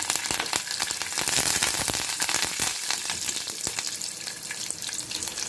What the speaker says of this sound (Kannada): ನೋಡಿ ಸಾಸಿವೆ ಸಿಡ್ದಿದೆ ಕಡಲೆಬೇಳೆ ಬೇಳೆ ಕೂಡ ಕೆಂಪುಗಾಗಿದೆ ಈಗ ಕರಿಬೇವು ಹಾಕ್ತಾ ಇದ್ದೀನಿ